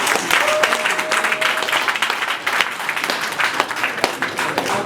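A crowd applauds steadily at the launch of the Miss Damba pageant, dense clapping filling the room as the contestants are presented, sustained and loud throughout with a faint tone running underneath.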